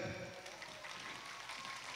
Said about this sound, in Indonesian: tepuk tangan untuk kaos si gaga